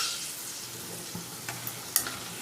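Crispy prawn pakodas frying in hot oil give a steady soft sizzle, with a few faint clicks and a brighter spatter pop near the end, nobody talking.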